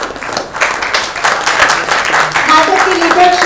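Enthusiastic clapping from a theatre audience as the stage play's crew is named, continuous and fairly loud, blended with voices and light tonal sounds.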